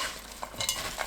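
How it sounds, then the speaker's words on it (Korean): Thinly sliced radish and cabbage being tossed with salt in a bowl, giving a close, continuous soft rustling and light scraping with a few small crisp bumps. "무, 배추, 꽃소금 반 큰술 넣고 섞어 20분 놓아둡니다."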